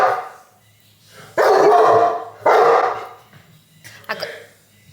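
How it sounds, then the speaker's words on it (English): A dog barks indoors, close and loud, in a few heavy, drawn-out woofs with short gaps, followed by softer yips. "yeah, he's barking at me."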